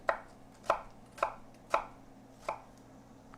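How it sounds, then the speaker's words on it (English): A knife chops an onion on a cutting board in five evenly spaced, crisp strikes close up, with no other sound in between. "So I just peel the onion, cut it in half. I lay it down flat. And then I cut it straight, right?"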